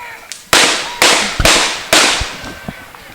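Guns fire a volley salute during a Flag Day parade in Quincy: four sharp outdoor cracks roughly half a second apart, each trailing off into echo over faint crowd background.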